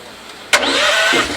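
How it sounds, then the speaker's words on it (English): A farm air compressor's motor kicks on abruptly and keeps running at a steady, loud whine with a faint hum beneath, no talking. "Use the air compressor to blow the wheat chaff out of this head."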